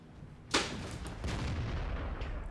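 Tank cannon firing a shell in World of Tanks, a single sharp loud blast followed by a rumbling decay and lingering low battle noise.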